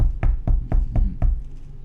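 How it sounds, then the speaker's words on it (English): Six evenly spaced knocks on a hard surface, dull and boomy with a sharp attack, close and loud, followed by a quieter tail with no voices. "Do you hear him knocking?"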